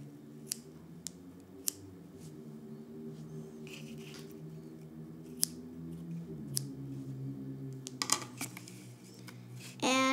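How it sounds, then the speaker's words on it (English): Scissors snip off excess yarn during weaving, giving several short, crisp cuts spaced irregularly over a steady low hum in the background. "Now we're going to snip the excess yarn off."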